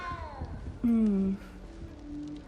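A cat meows in a video game, a short tonal cry standing out briefly among game music and other soft in-game sounds.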